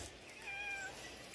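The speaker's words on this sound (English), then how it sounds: "cats keep following me around as usual." A cat following someone outdoors gives one soft, thin meow nearby. A brief faint click comes at the end.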